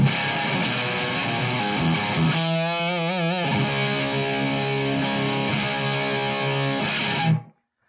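Seymour Duncan Twin Tube Mayhem pedal set to 50% gain on an electric guitar gives thick, saturated distortion: a chugging riff, a held note with wide vibrato, then ringing chords that stop abruptly, loud and with no talking.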